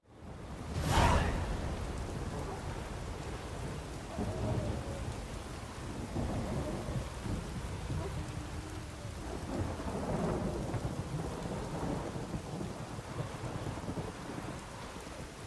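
Thunderstorm in The Witcher 3 video game: a sharp crack of thunder opens, then a steady wash of rain continues with low rumbling swells, fairly quiet and without voices.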